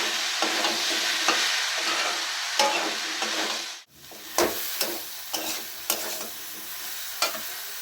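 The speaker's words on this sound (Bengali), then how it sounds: "নুনটা দিয়ে আমি আবারও হালকা করে একটু কষিয়ে নিচ্ছি।" Ridge gourd sautés with salt in a hot pan, giving a steady close sizzle punctuated by several sharp spatula scrapes and stirs.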